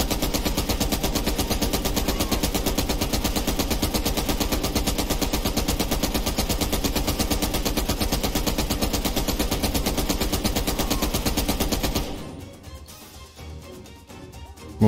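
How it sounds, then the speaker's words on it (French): Sustained rapid automatic gunfire in Call of Duty: Black Ops Cold War, loud and unbroken for about twelve seconds before it cuts off into quieter game noise. "Qui me tire dessus là?"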